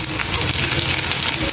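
Onions hit hot oil and fry with a loud, close, continuous sizzle, along with light stirring noises.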